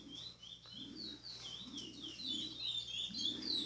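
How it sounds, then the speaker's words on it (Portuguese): A young curió songbird perched in its cage sings faint, clear whistled phrases, repeating in a steady pattern over a low background hum. "E é um passarinho que vocês podem ver que tá paradinho no puleiro cantando."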